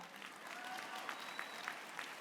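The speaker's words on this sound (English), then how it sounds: "You should clap for that." Crowd applause at a California Democrats convention, faint and distant, a thin sustained patter of clapping with a few sharper claps standing out.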